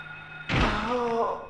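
A sudden heavy kick thud in Silent Hill lands with a dull booming impact, followed by a brief low groan, close and fairly loud.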